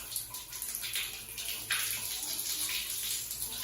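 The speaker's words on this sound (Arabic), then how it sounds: "افتح المي الحار" Hot water running steadily from a bathroom tap into a tub or basin, a continuous rushing splash with slight gurgling, fairly close and alone without talk.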